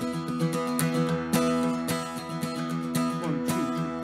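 A strummed acoustic guitar plays a fast boom-chuck reel rhythm for Cooley's Reel, steady alternating bass notes and chord chops driving along evenly, close and alone with no talk.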